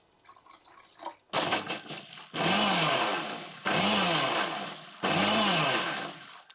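A kitchen blender whirring in repeated loud bursts while blending sapota juice with added water, preceded by faint liquid sounds and a brief start-up.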